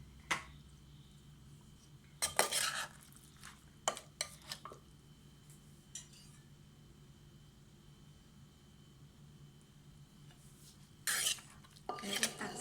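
Spicy Thai santol salad with crispy fish and basil being spooned onto a plate: scattered clinks and scrapes of utensil against dish in short bursts, with quiet pauses between, close and fairly soft.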